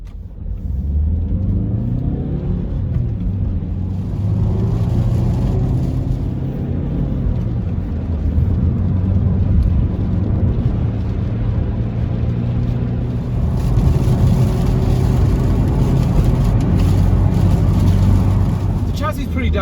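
A Hyundai i30 1.6 diesel car pulls away in first gear and accelerates onto a motorway, its engine a steady, loud, close rumble with rising revs throughout, while a voice talks over it.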